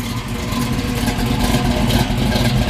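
A 1969 Chevrolet Camaro Z28 with a solid-lifter small block V8, aftermarket headers and Flowmaster exhaust, runs loud and close with a steady, throaty rumble and slight rises in revs.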